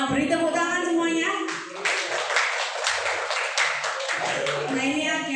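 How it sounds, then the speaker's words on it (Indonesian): A classroom audience breaks into steady applause after a group presentation, a voice talking at the start before the clapping fills the rest. "beri tepuk tangan semuanya"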